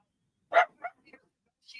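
A dog barks in the background, one loud bark followed by a couple of quieter yips and a faint trailing whine, brief and isolated with no talk.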